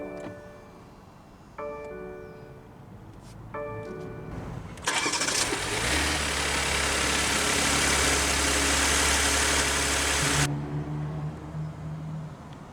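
A 2023 BMW X5 xDrive45e plug-in hybrid SUV is switched on from inside the cabin. A few electronic chimes sound first, then a loud engine start settles into a steady idle that drops to a quieter hum near the end.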